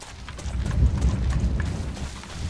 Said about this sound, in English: Goddamn, fucking loud-ass thunder and lightning and shit.